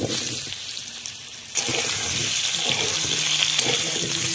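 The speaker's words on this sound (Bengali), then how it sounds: "এই তেলে আমি আলুটাও ভেজে নেব" Potatoes frying in hot oil, giving a steady, loud hiss and sizzle that swells suddenly partway through and then stays bright and constant.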